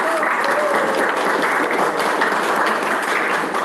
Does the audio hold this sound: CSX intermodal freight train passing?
no